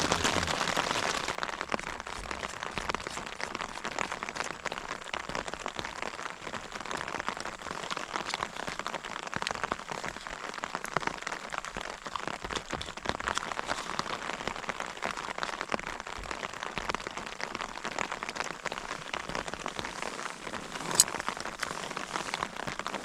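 Rain falls outside a tent at a spring summit camp in the Brecon Beacons, a steady patter of many drops on the fabric with scattered sharper taps, even and close throughout.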